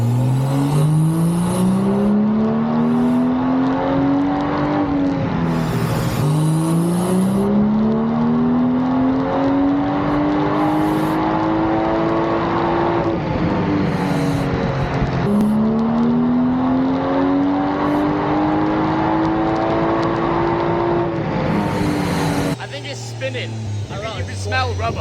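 A BMW fitted with the B58 engine revs hard and loud, rising in three long sweeps to high revs and dropping back between each, then cutting off near the end.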